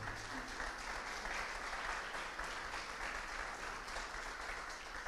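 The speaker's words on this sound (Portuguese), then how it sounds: "Fique de pé, aplauda o Senhor com ânimo, com grande esperança." A church congregation stands and applauds, a continuous dense wash of clapping at a fairly soft, even level with no talk over it.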